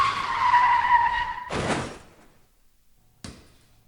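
Car tires skid with a high sustained screech as a car pulls out on an open road, then a loud broadband burst like an impact. A quieter silent gap follows, then a short sharp knock.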